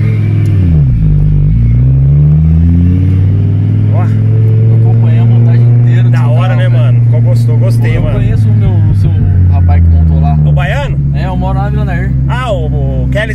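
A Fiat Marea turbo five-cylinder revs hard from inside the car, rising and falling through several long pulls with a loud, throaty warble and a turbo whistle sweeping up on top of the engine note.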